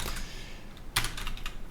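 Rapid typing on a computer keyboard while coding, a close cluster of crisp clicking keystrokes bunched in the second half after a quieter stretch, with no talk.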